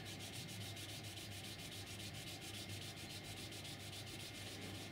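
Rhythmic abrasive sanding of a laser-cutter mirror on a flat 6mm polycarbonate sheet to remove deep scratches, a continuous gritty rubbing with fast regular back-and-forth strokes, close and steady with no talk.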